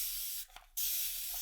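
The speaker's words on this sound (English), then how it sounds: "I've got Best Press in my spray bottle here" A spray bottle of Best Press starch mists fabric in a short burst, the hiss cutting out briefly in the middle before resuming steadily, close and alone.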